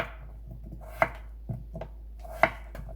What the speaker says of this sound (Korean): 감자 반으로 잘라서 먹기 좋게 납작하게 썰어주고요